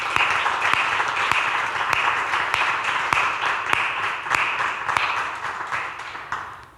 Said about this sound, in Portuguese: Podemos dar uma salva de palmas ao Senhor Jesus pela vida do Rafa.